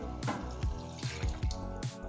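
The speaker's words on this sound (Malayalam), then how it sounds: "2 സ്പൂൺ കോൺഫ്ലവർ വെള്ളത്തിൽ കലക്കി വെച്ചിരുന്നു. അത് ഇവിടെ ഒഴിച്ച്" Cornflour mixed in water is poured into a pan of chilli chicken, producing a wet, splashing liquid sound with rhythmic soft pulses over a steady bubbling background.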